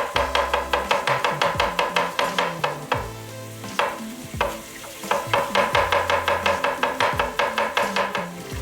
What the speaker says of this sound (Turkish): şimdi o sırada hemen sarımsaklarımızı doğrayalım.